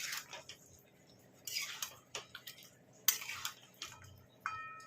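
Boal fish curry is stirred in a pot with plenty of oil: a quiet series of scattered metallic scrapes and clinks of a utensil against the pot, separated by soft pauses.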